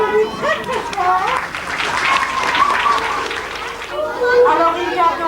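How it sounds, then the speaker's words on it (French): Audience at a cine club general meeting clapping loudly, with children's voices and chatter mixed into the applause and an adult speaking over part of it. "on les applaudit très très fort."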